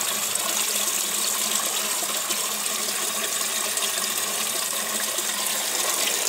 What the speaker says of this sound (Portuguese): água do retorno, a gente só vai despejando aqui